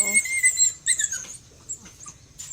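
A dog whimpers in high, thin squeaky whines on a farm, several short cries in the first second, then fainter ones, over low background noise.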